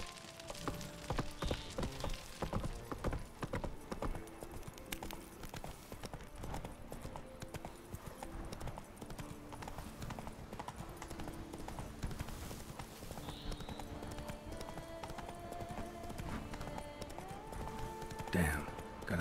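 Roach the horse gallops in a video game, a steady rapid clip-clop of hooves running continuously under game sounds and faint talk.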